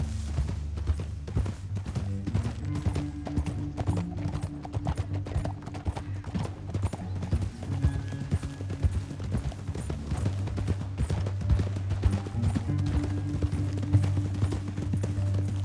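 Horse hooves clip-clopping in a steady rhythm from Red Dead Redemption 2, close and continuous over a low droning music bed.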